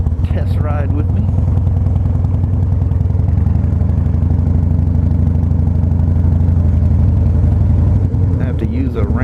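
A 2006 Harley-Davidson Softail Deuce motorcycle rumbles steadily on a test ride, its low engine drone continuous and loud throughout with a voice speaking over it.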